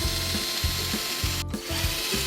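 A power drill drilling into a wall to mount a towel warmer whirs in repeated bursts with a ratcheting, grinding rhythm, each push lasting about half a second, close and steady.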